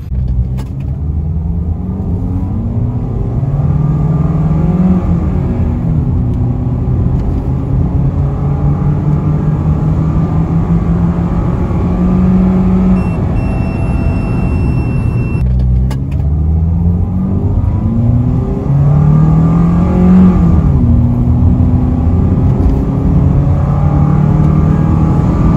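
A Perodua Myvi fitted with a Max Racing air intake drives steadily, its engine droning loud and close throughout, with the pitch rising and falling through gear changes and a brief dip in the middle before it pulls again.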